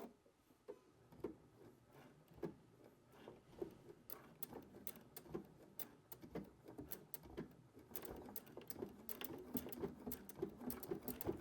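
A sewing machine runs a small, narrow zigzag bar tack to secure a jeans fly shield during a zipper replacement, a steady rapid ticking patter of needle strokes lasting throughout, close and moderately loud with no talk.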